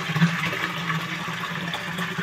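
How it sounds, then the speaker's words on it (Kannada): Village panchayat supply water runs from a household tap in a steady, even rushing flow, close and continuous throughout. "ಈ ಥರ ಬರ್ತಾ ನೋಡಿ ಪಂಚಾಯತಿ ನೀರು"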